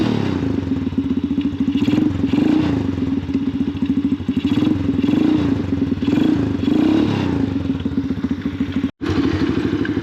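A Venom X19 super pocket bike engine, fitted with a carburetor taken from a Grom clone, idles loud and close with a fast, chugging thrum that rises and falls slightly, briefly cutting out near the end before resuming.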